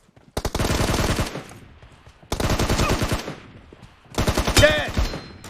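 Video game BGMI headshot gunfire: three loud, close bursts of rapid shots with sharp impact cracks and pauses between them. The last burst carries a bright ringing effect.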